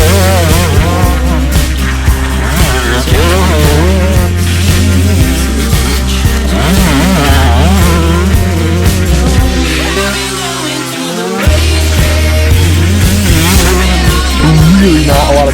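A Gas Gas 150XC two-stroke dirt bike engine running lean, a loud close buzzing engine that revs and bogs unevenly, briefly dropping out before picking back up.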